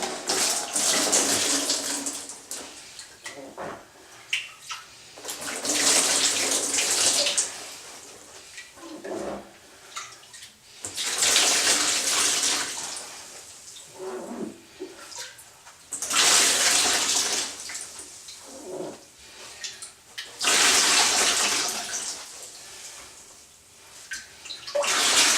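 Leftover water is soaked up from inside a cracked, nearly empty toilet tank, heard as five loud, close sloshing and dripping bursts at roughly five-second intervals, separated by quieter handling noises.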